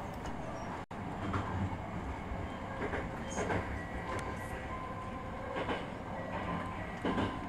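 A Hankyu Takarazuka Line commuter train in Japan rumbles steadily along the rails with a faint rhythmic clatter and occasional higher squeaks, heard from inside or close by, with no talking.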